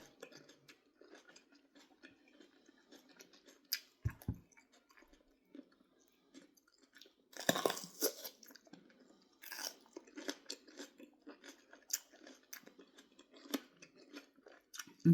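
Someone bites and chews a raw sweet red pepper, crisp crunches close to the ear in scattered bursts over a quiet background, with no talking.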